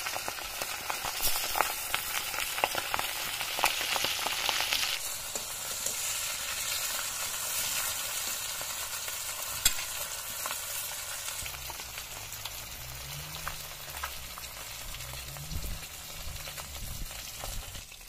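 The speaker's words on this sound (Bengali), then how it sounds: "পাবদা মাছ তেলে দিলে খুব ফোটে এবং চারিদিকে গরম তেল ছড়ায়" Pabda fish fry in hot oil in a pan, giving a continuous, close sizzle with crackling spatter that stays loud throughout, while a low hum creeps in toward the end.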